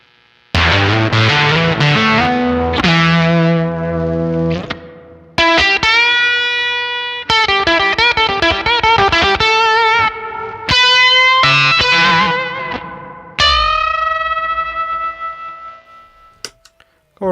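Electric guitar driven through octave fuzz pedals, a Roger Mayer Octavia against an Octapussy, playing loud, buzzy distorted chords and single-note lines with harsh upper-octave overtones, broken by short gaps and ending on a sustained ringing note.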